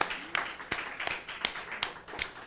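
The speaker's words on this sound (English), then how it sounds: "I would love if everyone would give our guests a round of applause" A small audience at a book event applauds the guests. Sparse, fairly close claps sound in an uneven rhythm over a soft room background.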